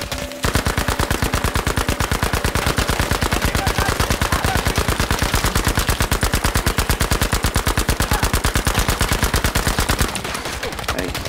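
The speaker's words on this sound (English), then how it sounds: "Who's shooting at me?" Automatic gunfire rattles in Battlefield V as a long, loud burst of rapid, evenly spaced shots. It sounds near, runs for about ten seconds, then cuts off.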